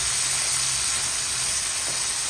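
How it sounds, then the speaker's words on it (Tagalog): Garlic, onion and ginger sizzle loudly in a pan with shrimp paste, producing a steady, close frying hiss that carries on without a break. "Ay, ginigisak po siya sa bagoong."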